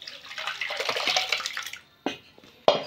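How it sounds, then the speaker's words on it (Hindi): Cold water pours over curdled milk held in a cloth, a steady splashing rush for a couple of seconds, then two sharp wet slaps as the soaked cloth is handled, close and fairly loud. "इसमें थोड़ा सा ठंडा पानी डाल के इसको बढ़िया करके हाथ से मिला के धो लेंगे"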